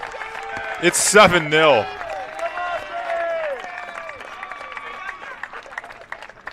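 Bench and crowd cheer and applaud at a college men's soccer match on senior day after a goal makes it 7-0, a loud burst of shouts that settles into sustained crowd noise as a commentator talks over it.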